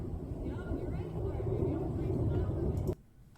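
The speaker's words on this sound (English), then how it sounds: "I'm hearing plane noise" A steady, low airplane engine drone rumbles overhead for several seconds, then cuts off abruptly near the end and leaves near silence.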